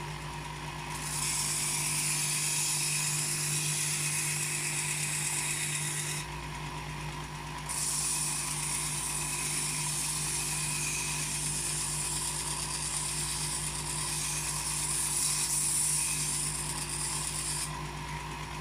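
Electric knife and tool sharpener grinding a blade, a steady close motor whir with a high grinding hiss that runs for several seconds, pauses briefly, then resumes.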